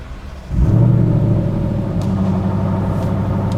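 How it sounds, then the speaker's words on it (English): A Ford Mustang GTD engine cranks and fires up around half a second in, then settles into a loud, deep, throaty idle rumble that continues steadily. "I'm gonna start the car"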